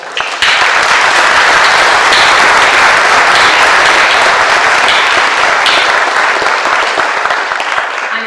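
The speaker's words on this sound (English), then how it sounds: "So a huge round of applause for the faculty" Loud, sustained applause from a graduation audience honoring the faculty at the 2023 Clarenville Campus ceremony, starting abruptly and continuing as dense, even clapping that fills the hall without letting up.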